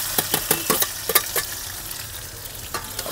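Onion dropped into hot mustard oil with bay leaves for a chicken curry, crackling and sputtering loudly at first, then settling into a softer sizzle with a few scattered pops, close up, no speech.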